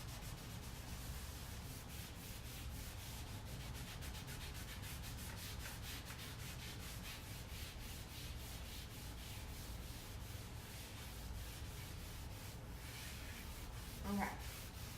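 Wax is worked by hand into a faux driftwood finish with firm pressure, a faint, steady scrubbing rub that repeats in quick back-and-forth strokes, close and quiet throughout.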